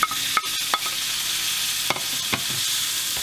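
Sausage frying in a pan with apples for a turkey stuffing, a loud steady sizzle broken by several sharp clicks and scrapes of a utensil stirring, close up.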